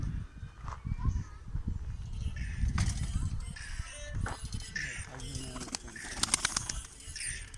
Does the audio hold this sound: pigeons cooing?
yes